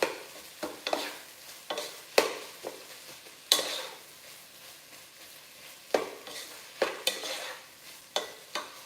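A tuna cutlet mixture is stirred and mashed in a bowl with a spoon, giving repeated wet, scraping strokes in an uneven rhythm, close and fairly quiet.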